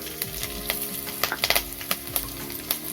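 Green chillies fry in hot oil in a pan while bhel puri is being made, giving a steady close sizzle broken by scattered pops and crackles with no voices.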